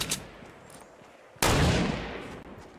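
A gunfire burst in the video game Fortnite during a sniper shootout, a faint shot early, then one loud close blast with a long decaying roar, with no talking.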